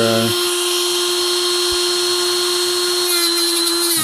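A rotary tool spins with wax polishing compound against ball tubes from a Ford 6.0L diesel high-pressure oil system, a steady high whine that shifts pitch slightly near the end, close and loud.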